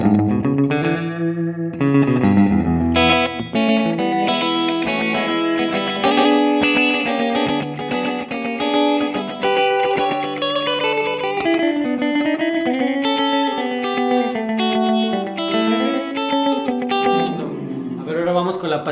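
Torino electric guitar from Italia Guitars with both pickups mixed, run through distortion, chorus and reverb effects, playing a sustained melodic phrase of chords and single notes, loud and steady throughout with no talking.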